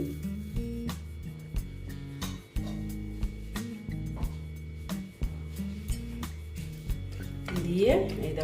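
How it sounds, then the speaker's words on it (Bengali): Flour batter seasoned with salt and sugar being whisked in a bowl, with quick rhythmic clinking and scraping strokes repeating steadily at close range over a low background hum. "দেখো এটাকে আমি একটু ফেটিয়ে নিচ্ছি"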